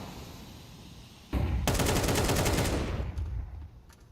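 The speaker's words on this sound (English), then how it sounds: "Bullets whizzing by" Counter-Strike gunfire in a competitive match: a sudden loud burst of rapid automatic shots after a quiet lead-in, sustained for about two seconds, then fading with a few scattered cracks and whizzes.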